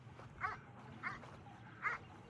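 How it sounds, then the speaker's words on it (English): Flock-guarding dogs in an alpine valley bark three times, distant and faint, over steady outdoor background noise. "We've got some dogs there."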